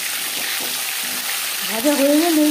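Bhola bhetki fish frying in refined oil in a slightly burnt wok, a steady broad sizzle throughout, with a tonal voice-like sound entering near the end.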